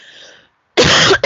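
A person gives a single loud, harsh cough, followed right after by a shorter second burst.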